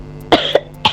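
A person in a roleplay game scene coughs three times in quick succession, close and fairly loud, with faint background noise and no talk.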